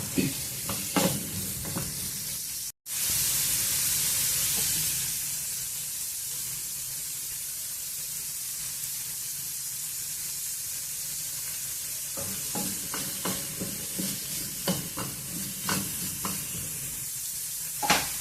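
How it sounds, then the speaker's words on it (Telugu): Cumin seeds fry in hot oil in a pan while radish chutney is made, giving a steady sizzle and hiss, with intermittent stirring scrapes and clatter near the start and again toward the end. "కొంచెం జీలకర్ర వేసుకోండి. దీనితో పాటే వేగిపోతాయి అవి కూడా."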